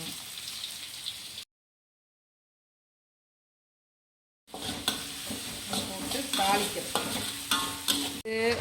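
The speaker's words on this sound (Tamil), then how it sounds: "கருப்பத்திரி பூ எல்லாம் வெங்காயம் போட்டு தாளிக்கணும்" Onions sizzle and crackle steadily as they temper in hot oil, with stirring scrapes, cut by a three-second silent gap before the frying noise returns, louder and busier.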